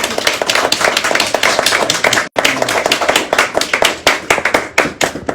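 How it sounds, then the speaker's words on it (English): Loud close applause from an afternoon audience at a Martha Washington historical event in Fall River, Massachusetts, with sharp individual claps in a dense rhythm, a brief dropout midway, then continuing strongly. "I think Mrs. Washington deserves a long round of applause for her leadership."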